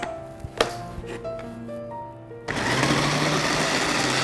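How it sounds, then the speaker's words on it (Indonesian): An electric food chopper whirs into a loud, steady grinding roar after a few seconds of clattering and humming, coarsely grinding spices up close. "ini siap untuk kita chopper. Chopper sedikit kasar ya"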